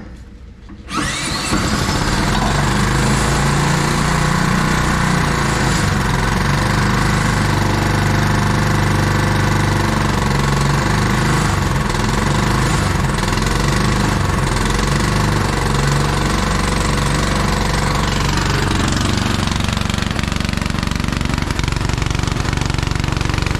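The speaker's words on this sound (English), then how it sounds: "I'm gonna try it out. Let's see if I can just start it" Fortress STONE 95CMED cement mixer's small gasoline engine starting on the carburetor, then running with a loud, steady rattling chug that continues throughout.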